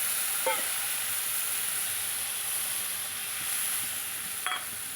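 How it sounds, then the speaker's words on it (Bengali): Spice paste of ground cumin, coriander, chili, turmeric and salt mixed with water sizzles steadily in hot oil in a smoking-hot kadai, a constant bright hiss with a couple of brief spatters, no voices. "মশলাটাকে তেলের ওপরে দিয়ে দিলাম"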